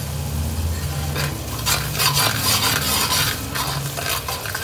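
Undhiyu vegetables, stuffed brinjal and potato among them, sizzle in a pan while a spoon stirs and scrapes them, a continuous close frying hiss with rhythmic scraping strokes and no talk.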